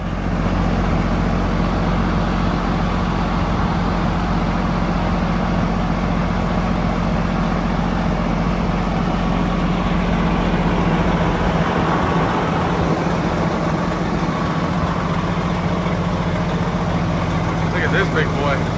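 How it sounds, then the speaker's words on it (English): A dump truck with a bad transmission idles with a loud, continuous low diesel rumble that holds steady throughout, with someone talking over it. "We'll start it up here for you so you guys can hear it in a little bit."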